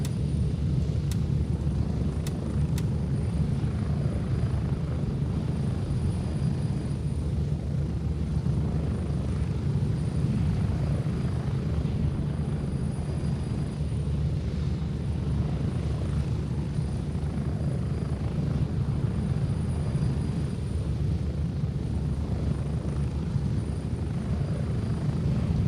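A helicopter in the video game Ghost Recon Wildlands drones steadily as a loud, continuous rotor and engine hum throughout, heard from aboard the aircraft.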